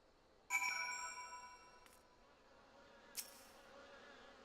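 Insect buzzing ambience from the video game Final Fantasy XIV, with a sudden bright chime-like buzzing swell that fades over a second, then a second short burst, quiet and alone.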